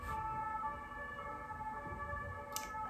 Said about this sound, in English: every time a siren passes, I'm like, okay, I better stop.